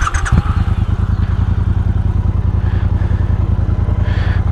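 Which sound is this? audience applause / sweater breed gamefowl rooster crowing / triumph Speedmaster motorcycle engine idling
triumph Speedmaster motorcycle engine idling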